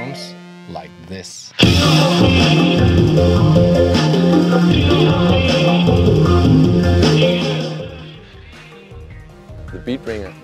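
Music plays loud and full from a Beatbringer backpack Bluetooth speaker streaming wirelessly from a phone, starting abruptly after a brief quiet lead-in and fading out near the end.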